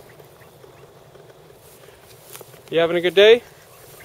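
Ducks quacking outdoors in a short burst of several harsh quacks near the end, after quiet background and a spoken question.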